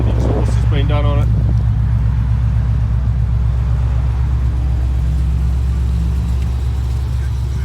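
A Holden SS Commodore V8 idles with a newly fitted exhaust, giving a loud, deep, continuous rumble close by, with a brief burst of talk near the start.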